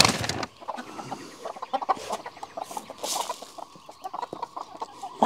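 Chickens cluck and murmur around a cabin homestead, a dense near flock of short irregular clucks with scattered louder calls over soft background rustling.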